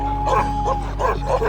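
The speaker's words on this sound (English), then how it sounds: "Just look at the barking of this female." Female Himalayan livestock guardian dog, a Bakarwali cross, barking in a rapid run of four loud, close barks over a steady low hum.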